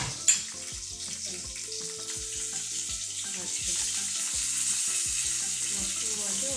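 Bay leaf, cinnamon, fennel, cloves and a green chili hit hot oil and sizzle loudly and steadily, with stirring clinks throughout and no talk over it.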